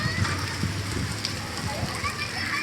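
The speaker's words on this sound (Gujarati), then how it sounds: "તો તમે જોઈ શકો છો કેટલો મસ્ત મજાનો વરસાદ આવે છે." Gentle, steady rain falls outdoors without thunder, a constant close hiss and patter on surfaces while a person talks over it.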